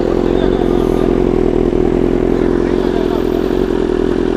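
A BMW S1000RR superbike exhaust roars loud and close in a steady, continuous engine drone with rattly mechanical texture and no clear rises or drops in pitch.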